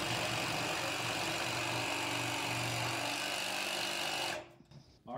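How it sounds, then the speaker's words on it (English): A reciprocating saw cuts through a wooden stair stringer with a loud, continuous buzzing rasp that stops abruptly near the end, leaving a few faint knocks. "This is a reciprocating saw"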